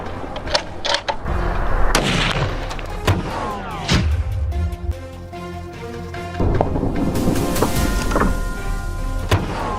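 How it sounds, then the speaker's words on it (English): Several loud hunting gunshots at wild boar boom in succession in the mountains, each followed by a long rolling echo, with crackling reverberation filling the gaps between blasts. "pulled the trigger. The explosion echoed throughout the mountains."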